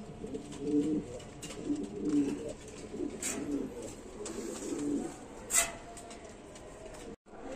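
Pigeons at a seller's loft give repeated low, soft coos in a gentle rhythm, close by, with faint background chirps and no talk.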